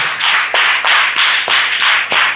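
A church congregation claps loudly in worship, a fast, rhythmic burst of many hands striking together in regular pulses about every half second, close and strong.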